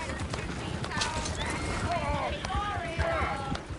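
Horse hooves clip-clop in the Red Dead Redemption 2 video game amid a busy town scene, with rapid hoofbeats under game voices talking and shouting, plus scattered whinnies and background commotion.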